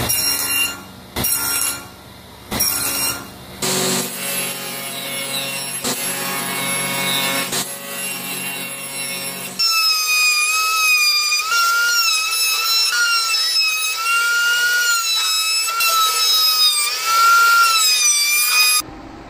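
Hand saw cutting off wooden tenons for a bathroom vanity: rhythmic rasping strokes with brief pauses between cuts, followed by a tonal, whining passage.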